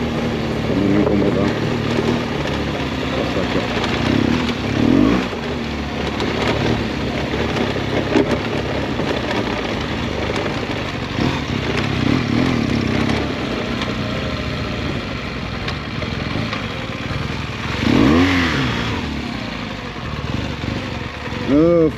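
A scooter-type motorcycle ridden off-road near Campo Largo makes a continuous engine drone that swells and eases, with rough rumbling from the terrain and voices talking over it.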